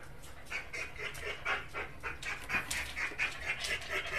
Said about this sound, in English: You can hear a whiny dog in the background.